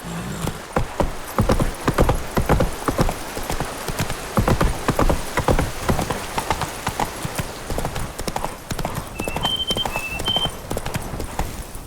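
Roach the horse's hooves clip-clop steadily and close in The Witcher 3, a continuous rhythmic walking gait with a brief whinny-like tone near the end.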